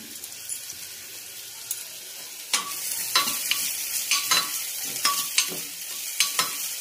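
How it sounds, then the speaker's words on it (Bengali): Chopped garlic and chilli for a homemade mutton soup frying in a pan, stirred with a utensil: a quiet steady sizzle that turns into a run of sharp scraping strokes, close and irregular, with no talking. "এভাবে না নেড়ে চেড়ে রাখতে হবে, লেগে যাবে আবার"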